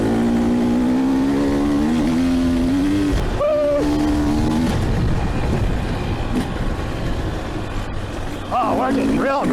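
Talon hybrid vehicle driving hard through a brake test, its engine drone rising and falling with revving, under constant excited talk.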